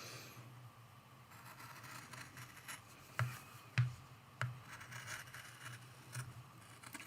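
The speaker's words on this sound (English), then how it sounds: "I have more control with the scissors. So this side I'm going to cut by hand" Scissors cut by hand through a crocheted mug rug, giving a few sharp, faint snips amid soft rubbing and scraping of the yarn in a quiet room.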